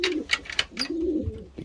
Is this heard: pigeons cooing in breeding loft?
yes